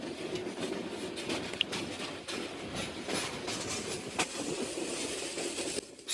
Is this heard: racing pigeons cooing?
no